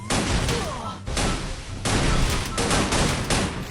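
Grenade explosions in a multiplayer video game come in a dense, loud barrage of overlapping blasts and crackling gunfire-like bangs. The noise continues without a break and is heard up close.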